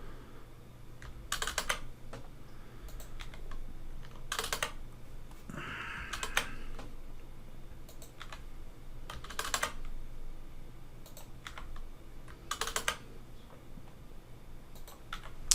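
Keys on a computer keyboard tap quietly in short, irregular bursts with pauses between them, close by, over a low steady background hum.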